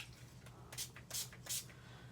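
Shimmer spray is spritzed onto a paper craft card, giving three short, faint hissing puffs in quick succession in a quiet room.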